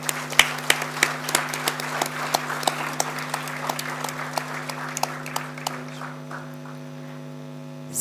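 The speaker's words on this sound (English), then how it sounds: "I would request the audience to please give a round of applause" Audience at an annual general body meeting's valedictory session claps in a dense, sustained round of applause over a steady mains hum, tapering off into quiet near the end.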